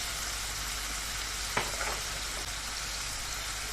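Steady broadband sizzle of beef and bell peppers stir-frying in a hot pan, with a brief clatter midway like a utensil stirring, no voices.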